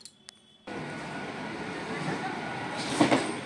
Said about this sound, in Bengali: তো খানিক্ষণ বসার পরেই ট্রেন চলে এসছে ব্যান্ডেল থেকে